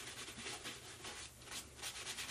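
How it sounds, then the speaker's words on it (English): Cloth rubbing shoe polish onto leather footwear, a soft continuous swishing with slight surges in intensity, close and steady, no voices. "if you're in a rush, you can rub with a cloth, of course."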